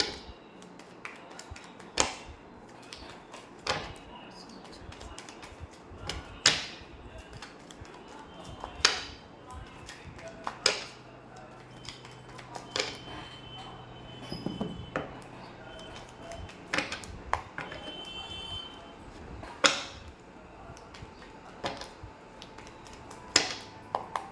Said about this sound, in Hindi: मैं कार्ड शफल कर लूँ थोड़ा सा।